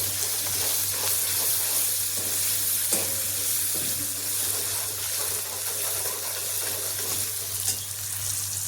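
Onions and tomatoes frying in a pan with cumin and mustard seeds, a continuous close sizzle with occasional stirring clinks and scrapes and a steady low hum in the background.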